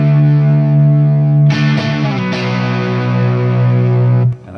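Distorted electric rhythm guitars from a rock song sustain a thick chord, then shift to a new chord partway through and ring out before fading at the end, with no voices.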